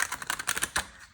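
Thoth tarot cards shuffled side-on, a rapid run of dry clicking card riffles that ripple close and fairly loud before trailing off into a brief pause.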